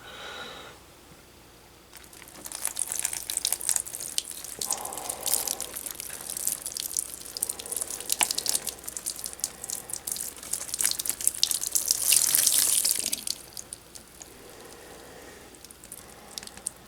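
A cup of water pours onto potato plants in soil, a soft splashing trickle that swells and fades over several seconds, close and fairly quiet, with no talking.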